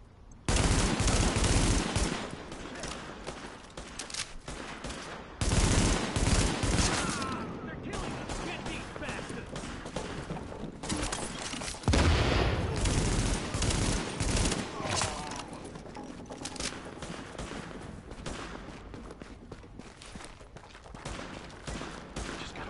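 Automatic gunfire in the video game The Division, loud rapid bursts opening sharply, then sustained rattling fire with repeated renewed volleys, a voice occasionally speaking over it.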